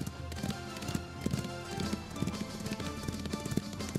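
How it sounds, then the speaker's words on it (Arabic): Horse hooves clip-clop at a quick, steady trot, fairly faint and set under a busy soundtrack in a dramatized series scene. "هيا هيا بسرعة أيها الحصان، أريد أن أرى ذلك الرجل المدعو فرانسيسكو."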